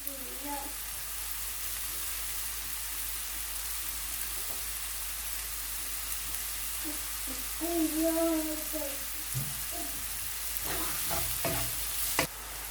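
Mushrooms sizzle in a pan as they fry down, a steady soft hiss broken by scraping stirs and a few clacks of a utensil against the pan.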